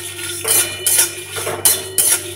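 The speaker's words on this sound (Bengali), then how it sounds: "এবার দিয়ে দেবো গোটা ধনে, দারচিনি, এলাচ, লবঙ্গ সব দিয়ে ভালো করে ভেজে নেব।" Whole coriander, cinnamon, cardamom and cloves dry-roasted in a pan, heard as four short bursts of rattling, scraping spatula strokes over a faint steady hum, close by.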